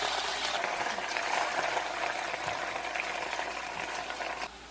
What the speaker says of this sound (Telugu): ఆ నూనెలో వేయించుకోవాలి గోంగూర